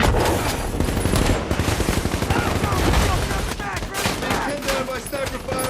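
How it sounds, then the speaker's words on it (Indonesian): Dense gunfire crackles through a war scene involving American soldiers and a sniper, rapid shots layered with loud battlefield noise and shouting voices. "seorang penembak jitu bernama Mustafa, menyebabkan salah satu tentara Amerika harus terkena tembakan."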